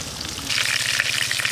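Pieces of a 7 kg pangas fish fry in mustard oil in a pan, giving a steady close sizzle and crackle that swells louder about a third of the way in and keeps going with no one speaking.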